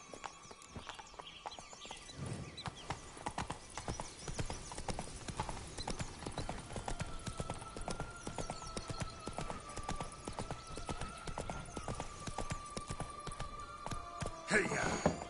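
Hooves clip-clop in a steady, brisk rhythm as a horse gallops along in The Witcher 3: Wild Hunt, continuing throughout with a faint whinny and game ambience beneath.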